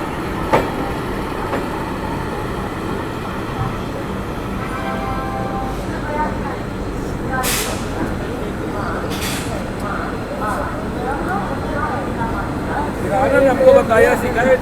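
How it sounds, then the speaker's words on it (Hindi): The Brahmaputra Mail rumbles and clatters steadily as it pulls into Kanpur Central station, with hissing brake bursts midway, heard from on board while someone talks over it. "तो अभी बस कानपुर सेंट्रल एंटर हो रही है अपनी ट्रेन"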